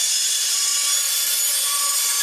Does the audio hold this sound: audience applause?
no